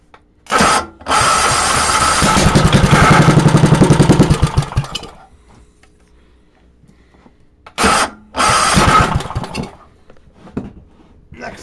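Cold-started motorcycle engine, choke just released, catches and revs in a loud buzzing burst for a few seconds before dying, then fires again briefly twice, with quiet gaps between.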